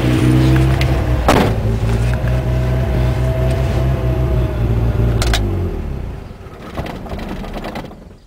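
A Dodge Ram 50 (Mitsubishi Mighty Max) engine running on after shutoff, a loud rough sputtering drone that holds steady, then falters and dies away near the end, with no talking.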